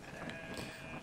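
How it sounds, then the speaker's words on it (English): Sheep in the video game Brothers give a short, slightly muffled bleat over a busy game background, with no talk. "Get one of those sheep."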